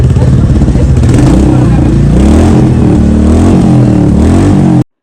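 A motorcycle engine revs loud and close in a steady rough drone with clattering grind, cutting out abruptly near the end, amid a wedding departure where people talk beneath the noise.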